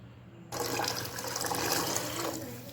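Water pours steadily from a mug into a pot of porridge set on a slow flame, a continuous close splashing rush lasting a few seconds with no talk.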